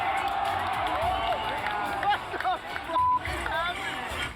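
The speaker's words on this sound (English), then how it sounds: "The crowd went nuts with every" A large arena crowd at the EVO fighting game tournament cheers and roars, with swelling shouts and whoops rising in bursts over a constant dense murmur.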